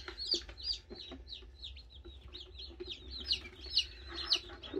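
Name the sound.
newly hatched chick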